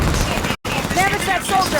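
Rapid gunfire rattles through a Halo 5: Guardians firefight, loud and continuous apart from a brief dropout, with voices calling out over the shooting.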